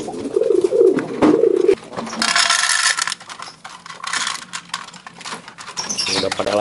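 Pigeons coo close by in the morning after a feed of corn, with low throaty calls early on, then grain pattering and scattering and birds shuffling and fluttering, fairly loud.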